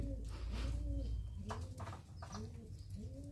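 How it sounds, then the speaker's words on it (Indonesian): A silver pigeon named Genuk coos close by in a repeated rhythmic pattern, soft murmuring calls recurring every second or so, with a voice faintly in the background. "ini merpati punya saya, ini silver, namanya genuk"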